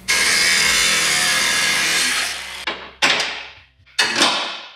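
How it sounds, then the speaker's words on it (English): A cutting disc grinds through a seized nut on a Jeep Wrangler skid plate setup: a loud, sustained abrasive whine for over two seconds, then several shorter bursts that rise and fade as the tool is reapplied. "We're just gonna use a disc on it, and we're just gonna cut that nut off."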